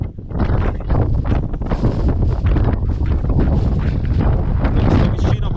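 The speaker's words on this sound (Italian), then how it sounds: "Ora tira un gran bel vento." Strong wind gusting across an open autumn mountain valley in the Alps, a loud, continuous roar buffeting the microphone throughout with no break and no talk.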